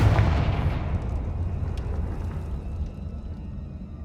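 A Confringo spell in Hogwarts Legacy bursts into a loud fiery explosion, a heavy booming blast at the start that rolls off into a long rumbling decay over several seconds, with no voices.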